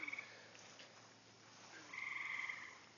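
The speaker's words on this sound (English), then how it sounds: "you can hear the bullfrogs off in the distance doing their croaking" Bullfrogs and tree frogs croak in a steady, pulsing chorus, with deeper bullfrog calls from farther off and a louder trilling burst near the end.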